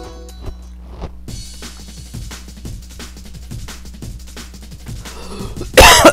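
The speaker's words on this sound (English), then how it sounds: "Excuse all my coughing." Coughing from one person over steady background music and game sounds, a short burst of coughs and throat clearing, close and fairly loud, with a louder burst near the end.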